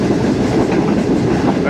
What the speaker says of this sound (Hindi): अब नवाबशाह रेलवे स्टेशन के सामने से भी एक ट्रेन आ रही है, कोल ट्रेन होगी जी।